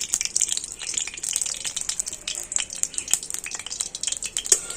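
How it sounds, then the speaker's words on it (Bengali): Ghee heating in a kadai on a stove gives a steady, faint crackle and sizzle with scattered pops and light clinks throughout, no voices. "তো ঘিটা একটু গরম করে নিয়েছি,"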